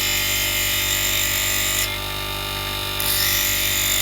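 An electric motor fitted with a sharpening stone runs loudly on a base with no leather padding underneath, a steady high whine and hum that dips briefly in the middle before returning to full strength.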